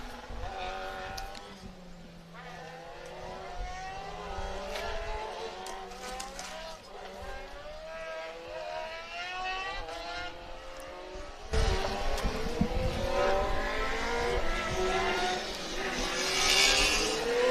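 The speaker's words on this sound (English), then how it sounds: "we see a lot of drift coming from the little green car" A Formula Student race car at an endurance event circles the track, its high engine note rising and falling through gear changes and passes, with tire squeal as it drifts and a commentator talking throughout.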